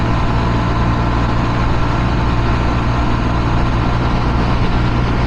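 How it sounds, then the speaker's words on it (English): A Honda Trail 125 runs at wide open throttle in fourth gear at about 51 mph, near 7,000 RPM, giving a loud, constant engine and exhaust drone mixed with heavy wind rush. "we're at 51 miles per hour now, 4th gear, wide open throttle"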